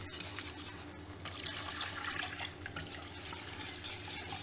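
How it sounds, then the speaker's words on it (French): Milk is stirred into a pan so it does not stick, a faint close scraping and swishing of a utensil over a low, steady hiss with a few soft knocks. "On remue tout de suite pour pas que ça accroche."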